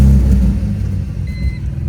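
A BMW E46 idles with its exhaust running, a close, loud, steady low rumble that eases slightly partway through, with a faint high whine above it.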